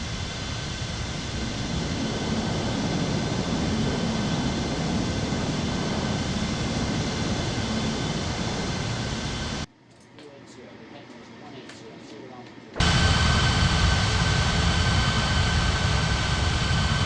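A video-game airliner drones steadily on its landing approach in an air traffic control simulation, a broad continuous jet roar that cuts out briefly partway through, then returns louder.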